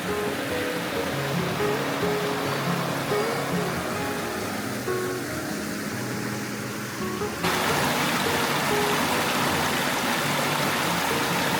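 Creek water flowing along a rough wild-camping trail in the Blue Mountains, a steady broadband rush of running water, close and continuous, growing louder toward the end with no talking over it.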